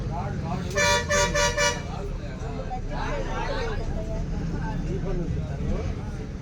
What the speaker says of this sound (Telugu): ఇప్పుడే బస్సు బయలుదేరింది